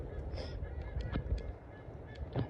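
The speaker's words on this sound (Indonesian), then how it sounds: "Ada suara bebek, itu bebek, suara bebek ini tuh" Honking duck calls repeat over steady outdoor background noise in a pandan coconut plantation, fairly close and moderately loud.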